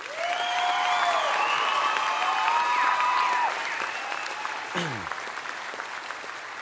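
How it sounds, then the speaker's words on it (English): An audience at a Poudre Community Academy graduation ceremony claps for the graduates in a sustained wash of applause, overlaid by whistling and cheering, then fading. "Can we give these PCA graduates another round of our applause?"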